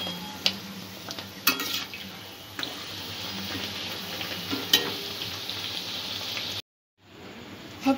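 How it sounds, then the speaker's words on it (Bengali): Bhatura deep-frying in hot oil, a soft bubbling sizzle with occasional louder clinks and splashes, then a brief silence before the frying resumes. "তেলটা একটু গরম হওয়া অবস্থাতে ভাতুরাটা ছাড়তে হবে"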